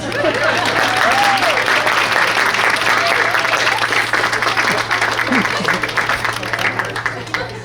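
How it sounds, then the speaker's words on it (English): An audience at a school board meeting claps in a loud, dense round of applause that holds steady and then slowly tapers, with a few voices calling out over it. "One more round of applause."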